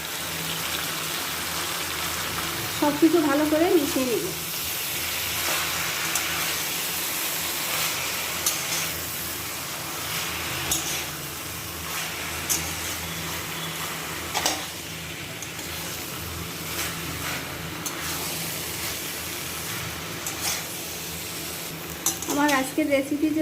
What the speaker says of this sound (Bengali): এবার দিয়ে দিব পুঁই শাক ভেজে নেওয়া মিষ্টি কুমড়াও দিয়ে দিব